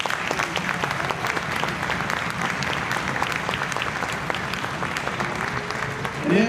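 Audience applause after a school summer orchestra concert, dense sustained clapping from a full room, close and steady throughout, with faint voices mixed in.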